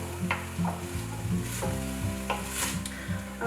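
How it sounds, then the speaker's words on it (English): Finely chopped onion sautéing in garlic lemon olive oil for risotto, a soft sizzle with a few stirring scrapes, faint and partly masked by steady background music. "I'm going to add another 3 tablespoons of the garlic lemon olive oil and the onion, finely chopped."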